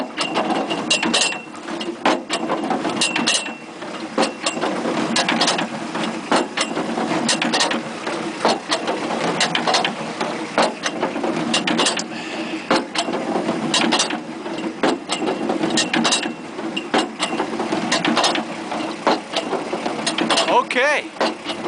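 A tractor PTO-driven log splitter with a four-way wedge runs continuously with rapid clattering, ratcheting mechanical noise and irregular knocks as wood is split, loud and sustained throughout.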